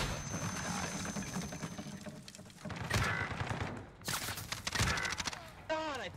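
Gunfire in a multiplayer shooter video game, with dense bursts of shots and impacts over continuous game noise, a few sharper reports standing out and a voice heard at the end.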